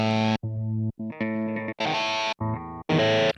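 Electric guitar run through a Line 6 unit with heavy distortion, recorded into an MPC Live 2: several loud, sustained distorted chords with short gaps between them, played alone.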